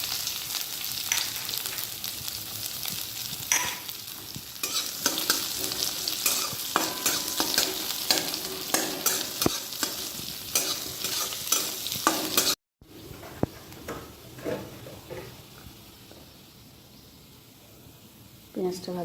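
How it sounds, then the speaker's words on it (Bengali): Onion fries and is stirred in a pan for watermelon-rind vegetable curry: a steady sizzle with frequent scraping stir strokes, cut by a brief break before a quieter stretch of frying. "পেঁয়াজটা ভাজা হয়ে গেছে দেখো।"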